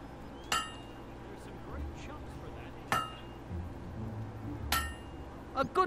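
Hammer blows in the video game Fable II, three sharp metallic clinks spaced a couple of seconds apart, followed by a quicker double strike at the end, ringing over a low, steady background hum.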